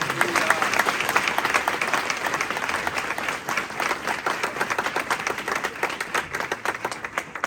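An audience at a church sermon gives loud, sustained applause, with rapid, distinct hand claps merging into a thick crowd roar that keeps pulsing for several seconds.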